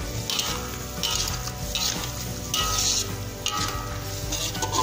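Rhythmic scraping and clinking of a utensil stirring tom yam broth in a pot over a constant sizzle, in a few repeated strokes, close and fairly loud.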